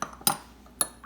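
A stir rod clinks against glassware holding a buffer solution, two sharp bright taps about half a second apart, close and clear over quiet.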